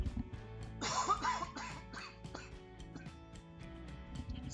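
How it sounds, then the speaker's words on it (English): A streamer coughs and clears their throat during a chill photo-editing stream, a burst of harsh, close coughs over about a second followed by quieter throat sounds, with low steady background hum throughout. "Ooh, got a cough"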